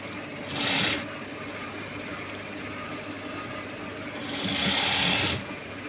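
A home sewing machine stitches sleeves for a dress late at night, a low steady hum with two louder bursts of faster running, no talking.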